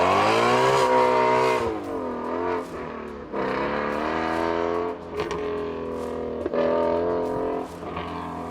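A car engine revs hard through several gear changes, each climb in pitch breaking off into a short dip before building again. It sounds loud and close, with no talking.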